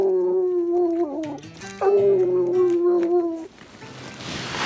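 Hunting dogs trailing a mountain lion in summer give long, wavering howls and yelps, several voices overlapping fairly close by, before the calls cut off into rustling brush noise.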